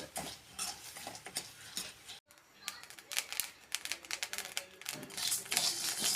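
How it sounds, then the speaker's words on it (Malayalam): Rice fries in a pan, giving off a steady run of sharp crackles and pops. The pops come close and irregular, with one brief silent break partway through. "പൊരിഞ്ഞ് വരുന്നുണ്ട് അരി."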